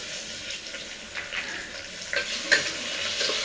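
Tomatoes and onions fry together in a pan for wheat rava upma, giving a steady hissing sizzle with light scraping and stirring sounds rising briefly here and there, close and moderately loud.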